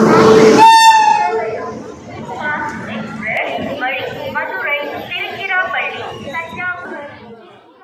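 Crowded platform at Tirunelveli Junction railway station, with a train horn sounding briefly at the start, then a narrator's voice over a dense crowd murmur.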